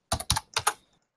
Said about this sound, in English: Sorry, Fury is typing.